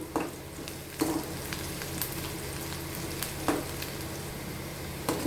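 Sautéing in a pan for a Tamil pumpkin fry (poriyal), a continuous frying hiss with a handful of distinct spatula clacks spaced about a second apart, no talking.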